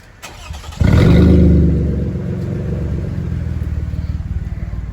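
A car with its catalytic converter stolen starts up with a sudden loud blast, then settles into a harsh, raspy idle with a rapid, uneven rumbling pulse, close and unmuffled.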